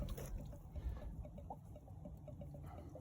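Water drains steadily from an opened sprinkler valve on a backflow preventer being winterized, a faint continuous trickle and gurgle running alone throughout.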